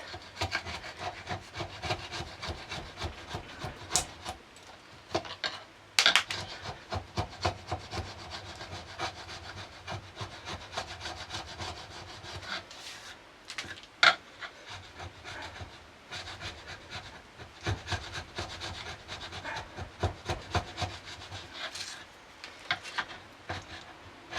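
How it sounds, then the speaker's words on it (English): A chisel peels back freshly cut wood while a filleting knife is being restored, producing repeated scraping and rasping strokes in an irregular rhythm with a few sharper knocks, close and fairly quiet. "I'm just taking the chisel, peeling back where I cut, so we can get this out of here."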